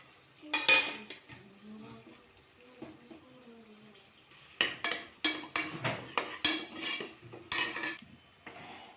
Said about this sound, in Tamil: நல்லா மசாலாலாம் நல்லா வந்து பச்சை வாசனை போக நல்லா எண்ணெயிலே நல்லா வந்து ஃப்ரை ஆகிடணும்